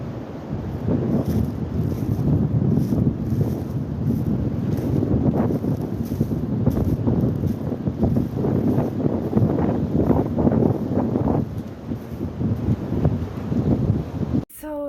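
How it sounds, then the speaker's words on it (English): Strong blizzard wind gusts batter the microphone with a steady roar and buffeting rumble, loud and unbroken for the whole stretch, with no talking over it. "Right now it's more of a wind gust than snow."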